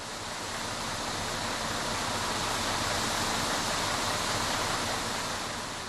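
Falling water pours steadily at a trout farm, a dense, even rushing roar of a waterfall that fills the whole stretch without change or voices.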